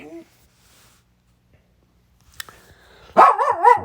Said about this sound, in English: My dog's getting all excited right now.